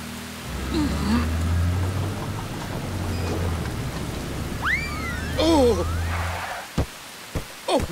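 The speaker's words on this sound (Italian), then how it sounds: "Oh, inizia a piovere!" Cartoon rain falls on a deserted town square in a children's animated episode, a steady wash of rainfall running under music and cartoon sound effects, with a few sharp thumps near the end.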